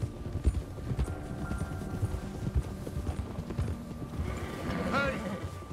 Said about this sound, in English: Run that horse.